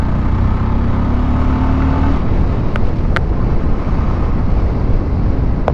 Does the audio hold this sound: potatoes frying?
no